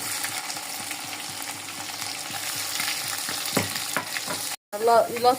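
Garlic and ginger fry in hot oil with a steady crackling sizzle and rhythmic stirring strokes up close, broken by a brief pause and then a louder burst of sizzling.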